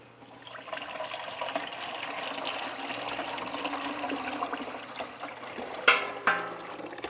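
Turkey drippings poured off a roasting pan into a stainless steel bowl, a steady liquid pour and splash lasting several seconds, ending with two sharper metallic clinks near the close.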